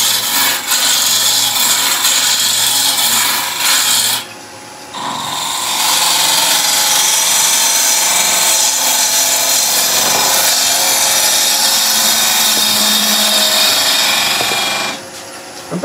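A wood lathe turns a timber tealight holder while a tool shapes the outside edge, producing loud sustained scraping and cutting noise with a brief pause and a gentler stretch before the cut resumes.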